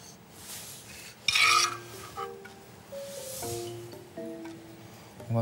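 A knife cuts through a cooked pigeon in a kitchen, giving a short rasping, scraping stroke that is followed by quieter rubbing and light clinks of utensils close by.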